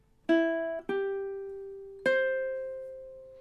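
Ukulele picking three notes of the Day-O (Banana Boat Song) melody, each plucked tone ringing out and decaying, close and clear with no voices.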